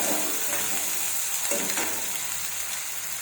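Finely chopped onions fry in a pan with a steady, dense sizzle, and a spoon stirring through them adds soft scraping strokes; no voices.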